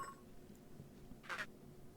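Telephone dialing in the video game Beacon Pines: faint, quiet tones with a short burst of brighter beeps toward the end, heard alone without any talk.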